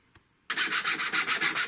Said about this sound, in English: So just take my time, go slow, and file a dovetail.